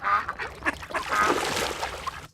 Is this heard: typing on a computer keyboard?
no